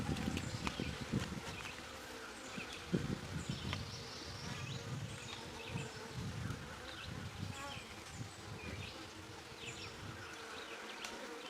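Honeybees buzzing densely around an open backyard hive as frames are pulled, a steady close swarm drone with wing flutters passing near.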